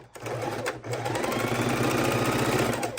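A sewing machine runs steadily, stitching a fabric bowl cozy, its motor a close, even whir with fast needle rhythm, briefly pausing once near the start before continuing alone.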